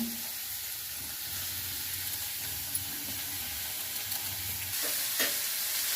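Onion pieces fry in a pan with a soft, steady sizzle that runs throughout, with a couple of light stirring clinks near the end.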